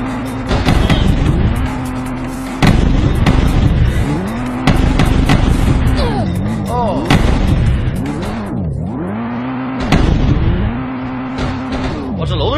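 A car driving in a video game, engine roaring loud and close with rising and falling revs, skids and crashes, under excited talk.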